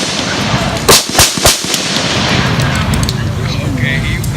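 A firearm fires at targets during a military history event, with three sharp, loud reports in quick succession over steady outdoor background noise.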